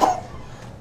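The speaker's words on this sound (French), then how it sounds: "Qui a toussé là?" A single short cough bursts out at the start, then quickly trails off into quiet room tone.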